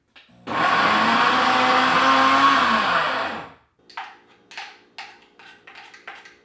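A kitchen blender whirs loudly for about three seconds, blending rice for chickpea burgers, its pitch dipping slightly before it cuts off, followed by a few soft clunks and handling noises.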